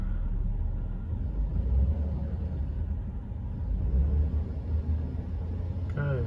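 A 2003 Chevy 5.3L engine with a newly replaced oil pump rumbles steadily close by, its revs rising and easing in two broad swells.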